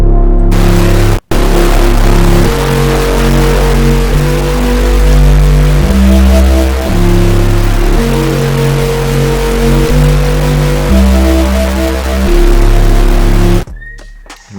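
Loud, gritty mono synth bass run through bit-crusher drive, playing a sustained sequence of held notes that step between pitches, with a brief dropout near the start and no talking.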